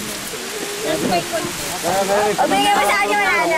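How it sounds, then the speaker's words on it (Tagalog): Rain falls steadily outdoors, a broad hiss of drops and splashes running through the whole stretch while people talk close by. "Ulan talaga. Uwi na lang tayo. Nababasahin tayo."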